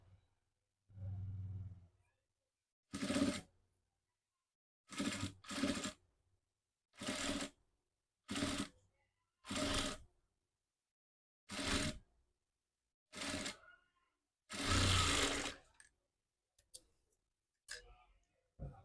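A sewing machine stitches a long frock made from an old sari in short separate bursts of running, roughly a dozen spurts broken by silent pauses and fairly faint overall.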